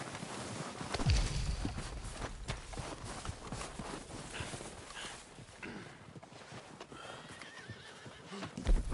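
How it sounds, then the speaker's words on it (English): Horses in the Red Dead Redemption 2 video game whinny loudly near the start and keep neighing, with scattered hoof clip-clops and footsteps, over a busy outdoor game soundscape. "They're coming down with the horses."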